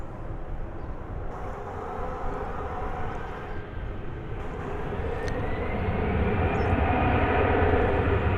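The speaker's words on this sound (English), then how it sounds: "here's a flight from Savannah, Georgia. Left 2 hours and 28 minutes ago, and here it is. It's an Airbus A319-100" Airbus A319-100 airliner arriving at DFW Airport, its broad jet engine roar steady and loud throughout, swelling slightly toward the end with a faint rising whine above the rumble.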